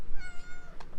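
A cat gives one short, close meow with a rising-falling tone, clear and alone against a quiet room.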